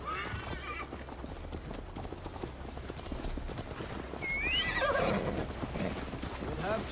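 Horse whinnying and clip-clopping hooves in Assassin's Creed Valhalla, a steady trot running throughout with a sharp neigh near the middle, set against ambient game sound and background voices.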